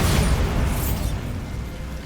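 The Bombarda blasting spell in Hogwarts Legacy, a single loud booming explosion that bursts at once and then rolls off into a fading rumble.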